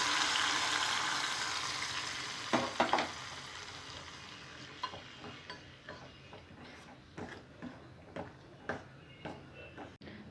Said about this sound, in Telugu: మరుగుతున్న రసంలో మనం ముందుగా రెడీ చేసుకున్న తాలింపుని వేసుకోవాలి